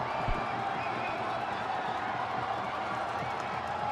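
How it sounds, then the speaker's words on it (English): Sri Lankan fans in a cricket stadium roaring and cheering at a Hong Kong Sixes match, a dense, steady wash of distant crowd noise throughout. "just listen to the roar from the crowd"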